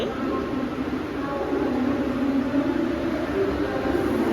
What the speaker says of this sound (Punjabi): ਇਹ ਆ ਗਈ ਬੰਬੇ ਦੀ ਲੋਕਲ ਟ੍ਰੇਨ